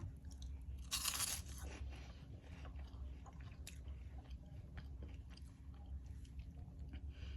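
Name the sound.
crunching on hot honey flavoured puffed corn snacks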